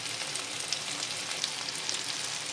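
Egg and potato curry masala frying in a pan, a steady, close sizzle with fine crackling that holds evenly throughout and no talk.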